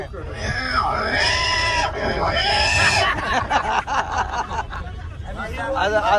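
A person imitates a pig's squeals and grunts loudly and continuously, with harsh rising squeal tones, amid background crowd noise.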